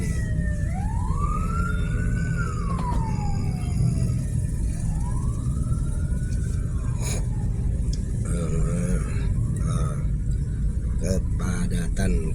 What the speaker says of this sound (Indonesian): ada ambulan lewat juga nih